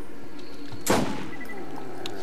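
In a zombie video game, a single sharp gunshot cracks out close and loud midway, standing alone over a quiet background.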